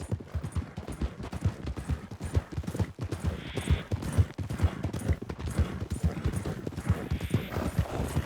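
Horse hooves in Red Dead Redemption 2, a steady, rapid clip-clop of a horse trotting at close range, the rhythmic thuds running without a break throughout with faint background sounds.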